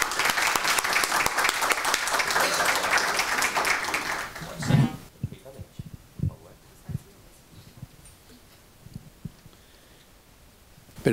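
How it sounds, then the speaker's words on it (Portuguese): Seminar audience at a business leaders' event applauds a senator with about five seconds of full, dense clapping. It cuts off sharply, leaving a quiet hall with scattered small knocks and shuffles. "Uma salva de palmas, por favor."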